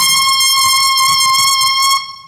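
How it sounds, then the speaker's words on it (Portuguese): A saxophone mouthpiece with its reed, blown on its own, sounds one loud, steady, shrill high tone rich in overtones, held for about two seconds before fading out, with no talking. "Vou soprar a boquilha com a palheta como eu fiz com a corneta,"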